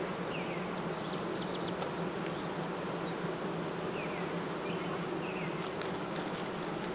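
A dense, steady buzzing hum of many honeybees fanning their wings inside a hive, close and continuous without pause, with faint higher chirps scattered through it.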